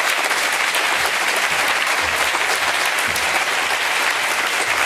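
Sustained, loud applause from a large audience after a speech, a thick steady roar of clapping hands that stays even throughout with no talk over it.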